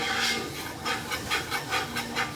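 A whisk or spoon stirring a Louisiana bayou-style roux in a pot, heard as a steady hiss with rhythmic scraping strokes repeating about every half second, close and fairly quiet, with no talking.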